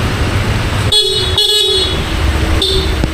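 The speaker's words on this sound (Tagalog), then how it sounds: "Lakas ang busina." A Honda Click 150 motor scooter horn honks in three short blasts of uneven length, loud and close, over steady engine and street noise.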